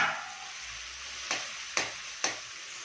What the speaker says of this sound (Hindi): एंड अब हम इसे मिला देंगे ना साग